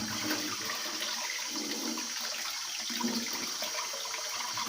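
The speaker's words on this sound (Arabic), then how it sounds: "افتح عليه الحنفيه اهو وانزله على طول ياخد صدمه تحت الميه الساقعه" Cold water gushes steadily from a kitchen tap over fresh artichokes, a continuous hiss and splash heard close and alone.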